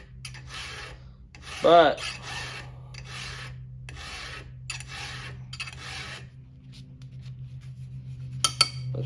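Hand file rasping across a chainsaw chain in a steady series of about seven close, scratchy strokes with short pauses between them, plus one brief word spoken and a couple of light clicks at the end.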